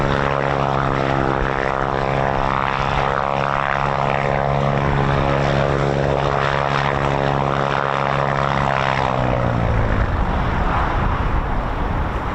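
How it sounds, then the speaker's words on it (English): Piper Warrior II propeller plane passing at an airfield, its engine drone loud and sustained with a steady buzzing tone that shifts lower as it moves past and fades, no talk. "I think this one is a Piper Warrior 2."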